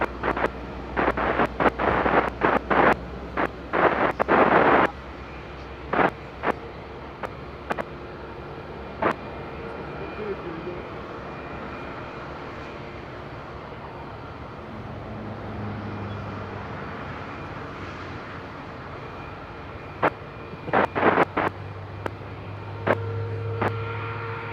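A Finnair airliner takes off at Madeira Island Airport, its engine roar a broad, steady rumble building in the middle, broken by loud wind buffeting on the microphone at the start and near the end.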